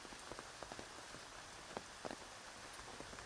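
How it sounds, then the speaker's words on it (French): Steady tropical rainforest rain in Xishuangbanna, Yunnan, a dense constant hiss of drops on foliage with scattered sharper drips pattering nearby, no voices. "Alors comme vous le voyez, on a beaucoup de pluie aujourd'hui."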